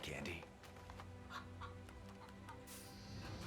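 Chickens clucking in the LEGO Marvel video game, short clucks and fowl calls in a busy game soundscape, with speech and other effects mixed in.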